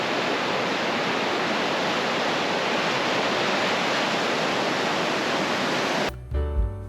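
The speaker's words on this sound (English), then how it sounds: "The Kennecott River is a glacially birthed torrent, and the best place to watch the action is from the footbridge." Glacial meltwater of the Kennecott River in Alaska roars beneath a footbridge as a loud, steady broadband rush filling the scene, then cuts off abruptly near the end, giving way to a brief, quieter muffled segment.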